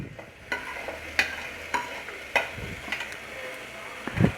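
Beetroot, carrot and beans for vegetable biryani sizzle in a pan, with a spoon scraping and stirring in several distinct strokes over the steady frying hiss.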